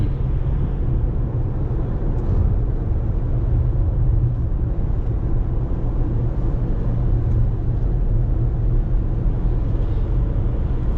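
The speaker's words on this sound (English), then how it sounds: "All right, guys, so here we are driving the RAV4." A 2020 Toyota RAV4 TRD Off Road with 16,000 miles is driven on the road, heard from inside as a steady low engine and tire rumble that stays even and loud throughout, with no talking.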